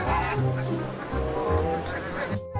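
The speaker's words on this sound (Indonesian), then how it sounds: "angsa." Geese honk loudly and repeatedly in a short burst of raspy calls, close by, with some overlapping squawks.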